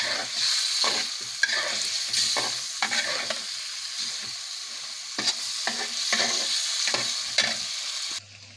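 Fish being sautéed in a pan, with a continuous loud sizzle and frequent spatula strokes scraping and stirring up close, no one speaking over it.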